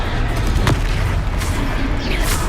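Fiery Confringo spell blasts in Hogwarts Legacy, heavy booming bursts over a dense rumbling battle din, with sharp cracks standing out among the continuous low roar.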